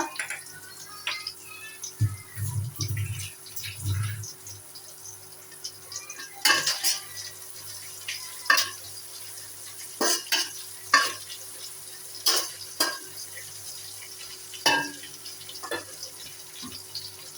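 Onion and garlic paste frying for chicken biryani, a soft continuous sizzle under repeated metallic clinks and scrapes of a spoon stirring in the pot, close by, with a brief low rumble early on and no speech.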